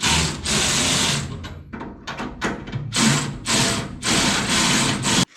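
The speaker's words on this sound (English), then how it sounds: "I'll loosen these bolts up." Bolts being loosened by hand with a power tool on a 1965-79 Ford F100 truck on a lift: a series of loud, buzzing bursts of varying length, some short and stuttering, others held for about a second.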